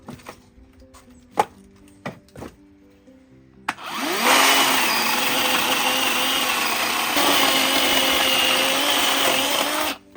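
A few sharp knocks and taps, then a Parkside cordless pruning saw starts and runs steadily, a loud buzzing whine biting through old, very hard oak for several seconds.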